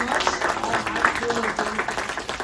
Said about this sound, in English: One more round of applause for Jelly Jammers, everybody